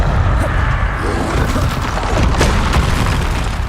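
Spell explosions from Confringo in the game Hogwarts Legacy rumble as a loud, sustained booming roar, with repeated crackling bursts and crashing impacts layered over a deep low-end rumble.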